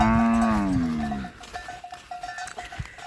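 Cattle on a farm moo loudly, one long drawn-out low call up close, followed by fainter, scattered lowing and background rustle as cows call for their calves.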